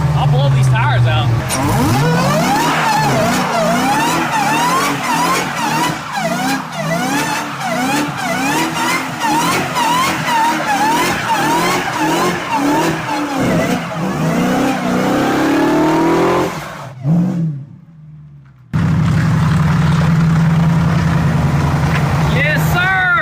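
A Hellcat-engined MPV does a burnout on the road with seven people aboard, its engine revving hard and screaming continuously for about sixteen seconds before cutting off briefly, then settling back to a loud idle, with people shouting and cheering over it.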